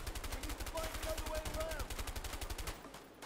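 Rapid automatic gunfire in the game A Way Out hammers away in a fast, even stream of shots for about three seconds, with faint voices in the background.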